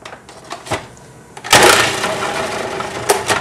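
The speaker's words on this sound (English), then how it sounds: "this is a food processor, and this does our grating for us very quickly" A food processor grates a quarter of a beet: a loud, steady motor whir with gritty grinding starts abruptly after a few soft clicks and runs on to the end.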